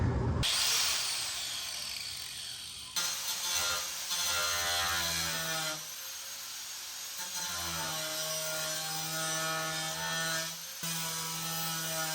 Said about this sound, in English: Maybe I should use an angle grinder.